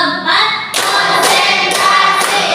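A classroom of pupils claps together in a rhythmic counted sequence, loud, close bursts of hand claps that fill the room.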